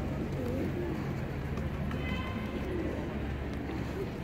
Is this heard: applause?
no